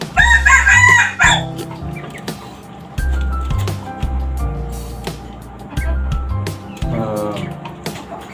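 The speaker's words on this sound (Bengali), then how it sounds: "মুরগির খামার। একটি আবদ্ধ ঘরের মধ্যে আপনার এভাবে লালন পালন করা হচ্ছে।" Caged desi tiger chickens in an enclosed rooftop farm in Dhaka crow loudly in long repeated calls, with clucking and scattered cackles between, close and busy throughout.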